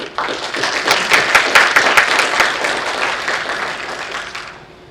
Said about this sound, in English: And let's give Mr. Scott Northcott a round of applause.